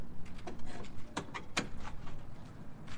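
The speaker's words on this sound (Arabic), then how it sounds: "تعالوا نقفل الباب بقى ايه مره." A pigeon loft door being shut, sharp clacks and metallic knocks in quick succession followed by softer rattles, close up and moderately quiet.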